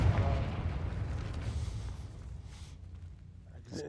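A Confringo fire spell bursts in Hogwarts Legacy with a heavy booming blast that rumbles and fades over a few seconds.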